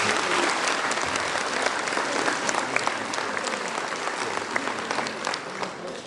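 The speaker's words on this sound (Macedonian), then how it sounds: "Уште аплауз и поздрав за оркестарот при културно-уметничкото друштво." An audience applauds a folk ensemble's orchestra at an annual cultural society concert, producing dense, sustained clapping that stays loud and even for the whole stretch.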